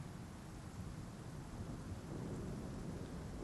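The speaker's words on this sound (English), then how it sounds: "I love the sound of rain." Quiet ambience of steady rain with a low, rolling rumble of distant thunder in the Bloodborne video game, a soft continuous wash with no voices.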